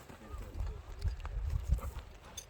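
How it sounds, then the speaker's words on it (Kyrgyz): A two-year-old pure Karabair Kyrgyz horse steps about close by, its hooves thudding in a quick, uneven clip-clop over a few seconds, with faint talk in the background. "Мынакей атты көрүңүздөр."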